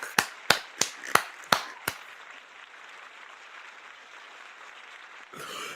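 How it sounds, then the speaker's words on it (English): About six sharp, separate claps come in an uneven rhythm and then stop, leaving a low hiss with a brief rustle near the end. It sounds like one or two people clapping close by, with no voices. "I'm just gonna give you a round of applause"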